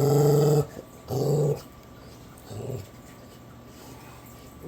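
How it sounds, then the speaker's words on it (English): A dog gives deep, rumbling growls in three bursts, two long ones close together and a shorter one after a pause, loud and close with quiet between them and no talking. "do you want to know who he's growling at?"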